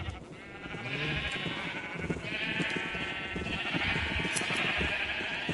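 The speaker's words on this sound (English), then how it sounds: "That's a blue sheep" Several Minecraft sheep bleat in overlapping, wavering calls against a busy game background, repeated over a few seconds at moderate loudness.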